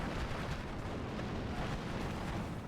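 Artillery fire in the WWII strategy game Steel Division Normandy 44 makes a continuous, dense rumbling roar of blasts merging into one another, loud and sustained with no pauses.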